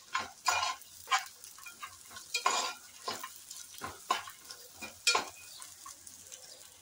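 Chopped onion and dried grated coconut roasting together in a pan, a quiet sizzle broken by a series of scraping stirs at irregular intervals, close and fairly soft, with no talking.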